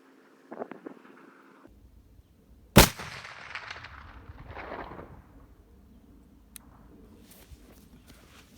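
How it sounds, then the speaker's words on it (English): A single sharp, loud muzzleloader shot fired with a Magnum 150 grain load cracks out, then trails off into a rumbling echo, with faint footsteps or handling sounds before it. "either way, I'm going to shoot another one"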